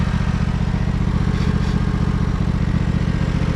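A 1968 John Deere 140 garden tractor idles close by after a long period of not running, with a loud, even low putter and steady rhythmic firing pulses.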